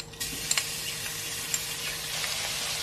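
Minced garlic sizzling in hot oil, a steady close hiss with a few light clicks of a utensil stirring in the pan.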